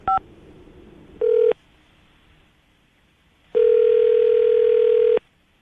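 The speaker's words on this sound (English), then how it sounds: "I'm going to dial her phone number right now" A telephone gives a short dialing beep, then a dial tone burst, a pause, and a long steady ringback tone while a phone number is dialed, clear and alone.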